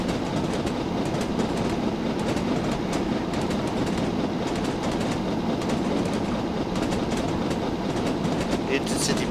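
An LMS Black 5 steam locomotive runs along the Somerset and Dorset Joint Railway. A continuous rumble and wheel clatter from the train holds steady throughout, with some faint talk mixed in.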